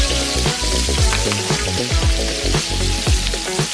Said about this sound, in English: And now I'm just basting the steak, and that's going to add crazy flavor to that steak.